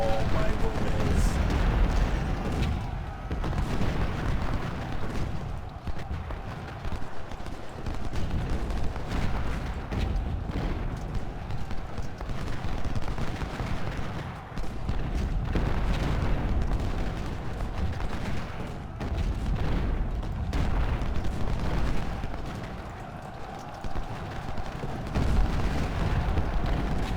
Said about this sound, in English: There's an artillery piece after an artillery piece.